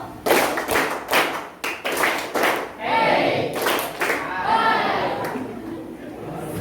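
A classroom group claps in counted rhythmic bursts, three claps, two, then one, in sharp clustered slaps with pauses between, as a teacher leads and voices talk over the sequence.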